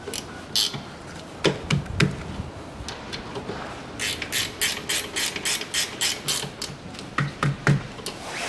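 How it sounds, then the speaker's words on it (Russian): Ratchet clicks while bolts are tightened on the rear brake caliper of a 2010 Chevrolet Epica, sounding in bursts of quick close ratcheting strokes with pauses between, then a steady run of evenly spaced clicks. "Закручиваю болты."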